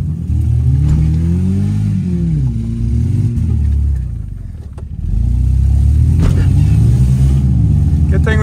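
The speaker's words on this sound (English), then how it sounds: "Make sure you're giving gas when I hit it." A Toyota Yaris stuck on a rock, its engine revving hard in loud rising and falling surges that briefly ease off mid-way before roaring again, with people's voices mixed in.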